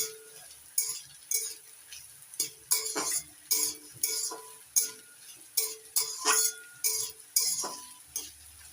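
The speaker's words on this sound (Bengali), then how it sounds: "লঙ্কা কুচি পেঁয়াজ কুচি একটু হালকা করে ভেজে নেবো" Chopped chili and onion being lightly fried in a pan, heard as repeated clinks and scrapes of a spoon stirring against the pan about once a second, close and fairly quiet, with no talking.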